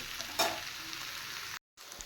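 Taro stolons go into a pan with half-fried onions, a hissing sizzle with a brief stirring swell early on and a momentary dropout before the frying resumes.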